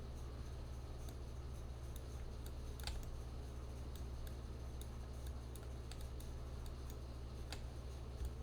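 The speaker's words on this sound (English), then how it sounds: "what if I use the keyboard?" Light, quick clicks of computer keyboard typing come in a loose, irregular rhythm, soft and close against a steady low electrical hum.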